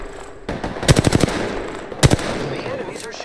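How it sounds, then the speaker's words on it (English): Enemy gunfire in the video game Apex Legends: one rapid automatic burst of closely spaced shots, then a shorter burst a moment later, loud and close against a background of game noise. "The enemies are shooting at me."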